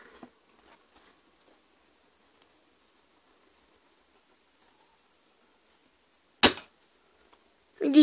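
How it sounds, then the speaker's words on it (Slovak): A toy pistol fires one sharp, close crack after a stretch of near silence, followed shortly by a short burst of another noise at the very end. "A ja idem strieľať z pištole."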